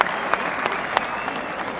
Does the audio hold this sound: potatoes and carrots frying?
no